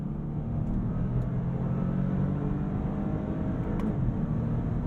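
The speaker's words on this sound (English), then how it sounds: "Those downshifts are very quick." A 2022 Bentley Flying Spur Hybrid accelerating with quick paddle downshifts, heard as a steady low engine and road rumble from inside the cabin, with a few faint clicks.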